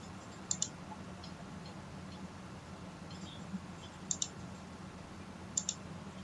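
Faint, close mouse clicks in computer software, mostly quick double clicks spaced a second or more apart over a low steady background hum.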